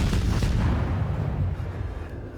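Incoming naval shells in World of Warships, a continuous heavy rumble of artillery fire and distant booms that sustains at high volume and fades slightly at the end.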